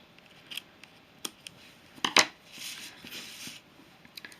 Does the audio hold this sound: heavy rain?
no